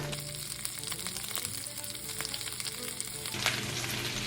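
Cauliflower steaks sizzling in butter in a skillet, a continuous bright crackling hiss with scattered pops, fairly quiet and close, with no voices.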